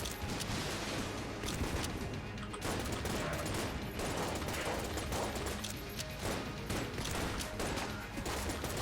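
Rapid game gunfire from Enter the Gungeon, dense and continuous across the whole stretch, crackling bursts overlapping like a fusillade with faint talk underneath.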